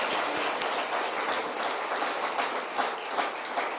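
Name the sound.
congregation applause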